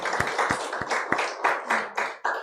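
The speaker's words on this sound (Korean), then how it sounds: "사모님 우리 한번 뜨거운 박수로 환영해 주시겠습니다" A church congregation claps to welcome the pastor's wife, a series of sharp, separate claps in an uneven rhythm, fairly close and loud, with no voices over them.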